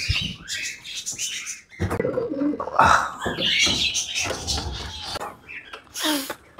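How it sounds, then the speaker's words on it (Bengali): Pigeons in a pigeon house coo and chirp close by, their soft calls rising and falling in bursts through the whole stretch. "এর ভিতরে অনেকগুলো কবুতর আছে"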